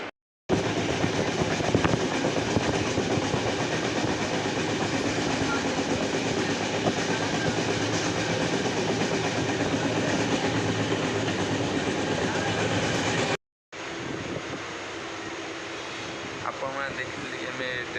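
A 7:55 passenger train running along the railway near a station, a loud, continuous rumble and rattle of wagons that cuts out briefly near the end before resuming, with voices faintly under the din.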